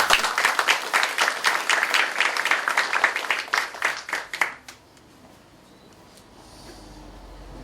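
Applause from the audience at a Soongsil University alumni association president's congratulatory address, dense clapping for about four and a half seconds that stops abruptly, leaving quiet room tone.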